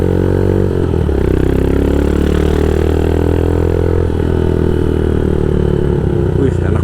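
Royal Enfield Himalayan custom motorcycle, fitted with Öhlins suspension, rumbling steadily at close range while being ridden slowly, with a continuous low engine throb and slight changes in pitch throughout.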